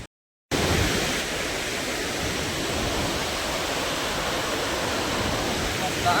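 Water thunders through the 18 open gates of the Nathsagar dam at Paithan as a dense, steady roar that fills the air, broad and unbroken after a brief silent start.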